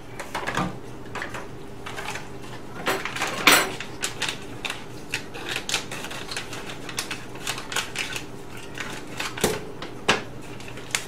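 A can of black-eyed peas being opened in a home kitchen while pork neck bones cook, giving a run of close, sharp metallic clicks and ticks over a steady low hum.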